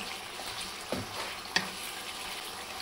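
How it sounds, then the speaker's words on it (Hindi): Mutton pieces frying in oil for namkeen gosht, a steady faint sizzle with a couple of brief stirring knocks near the start and middle. "ऑयल डालने के बाद इसे हम अच्छे से भून लेंगे।"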